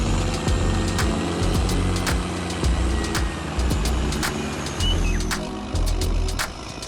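A heavy dump truck strains while hauling an overloaded load of more than 22,000 pounds of wood, its loud, steady diesel engine rumble rising and falling, with sharp clanks and knocks scattered through it.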